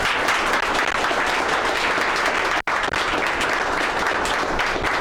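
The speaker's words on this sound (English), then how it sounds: "let's give them the biggest round of applause" Sustained applause from an event audience for departing panelists, a dense, steady wash of clapping that fills the whole stretch, briefly dropping out for an instant midway before resuming at full strength.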